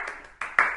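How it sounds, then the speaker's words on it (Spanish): Hand claps in a kindergarten movement lesson at home, a few soft claps followed by two sharper, louder ones in a slow, deliberate rhythm, close and alone with no talking. "Aplaudo despacito y voy trotando despacito."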